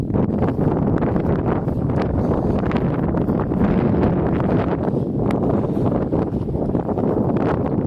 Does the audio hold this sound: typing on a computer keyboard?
no